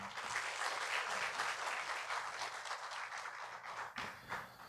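A crowd applauds steadily at a university orientation, dense clapping filling the room throughout, easing slightly near the end.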